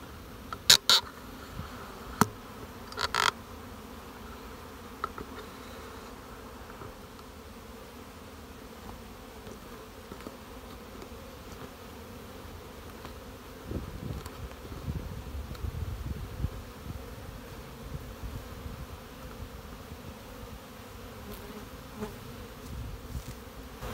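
Honey bees buzz around small hives in an apiary, a soft steady hum of many insects with a few brief louder passes near the start and a slightly fuller swell in the middle.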